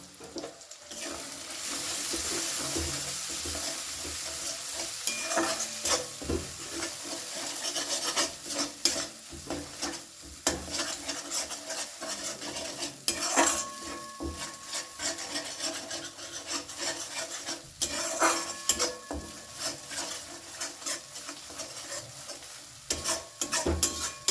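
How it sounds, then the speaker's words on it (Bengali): A prawn bharta mixture with salt and turmeric is sautéed and stirred in a pan, giving continuous close scraping and rubbing of a spatula against the pan over a faint sizzle, with no talking. "প্রায় দেড় মিনিট ধরে ভালো করে এটা আমি কষিয়ে নিয়েছি"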